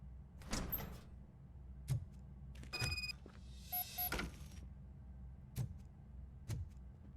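A door opens in a video game with mechanical sliding and whirring sounds, plus a few clicks and thumps, mixed with other game effects at moderate level.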